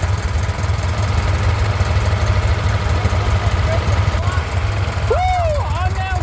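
An abandoned 79-year-old airplane's engine runs after being restarted, a loud, close, steady rumble with a rapid regular pulse that holds throughout, and a voice whoops over it near the end.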